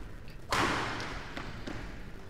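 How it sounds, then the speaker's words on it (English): A single sharp badminton racket strike on a shuttlecock in a ladies' singles league match, loud and close, followed by fainter court sounds. "Powerful shot by Zainab, but it still goes out."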